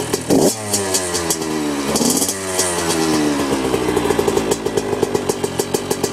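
A 2002 Suzuki RM85 two-stroke dirt bike, cold and started without choke, fires up with a sharp kick and revs in snappy bursts, then settles into a fast, crackling idle punctuated by quick throttle blips, loud and close.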